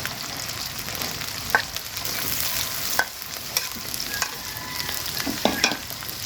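Onions sizzling and frying in oil in a pan during a village-style Bengali home kitchen recipe, a steady close crackling hiss with occasional sharp clinks of a stirring spoon.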